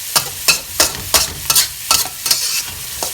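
A metal spatula scrapes and tosses food in a non-stick-free wok while frying basil pork, producing about eight regular, loud scraping strokes over a steady sizzle.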